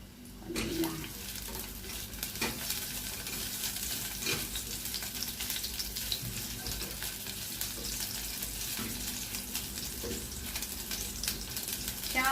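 Chicken nuggets and shallots fry in hot oil with a steady, close, crackling sizzle. Occasional soft clinks and stirring taps sound over the sizzle, and no one speaks.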